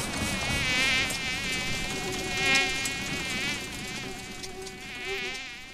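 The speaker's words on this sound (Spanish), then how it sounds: "rodeados de nubes de zancudos y mosquitos y jejenes, cuyos zumbidos y picadas pueden volver loco hasta el más cuerdo de los mortales." Dense insect buzzing from swarms of mosquitoes, gnats and sandflies, a continuous high whine with wavering pitch that swells and fades slightly, close and steady throughout, with no talk.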